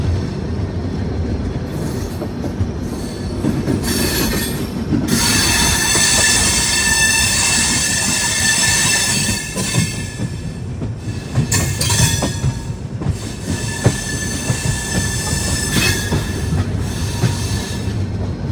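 A Jan Shatabdi passenger train rolls loudly into a junction, its wheels clattering and rumbling over the rails in a steady close roar, with screeching squeals and rhythmic clicks as it crosses points.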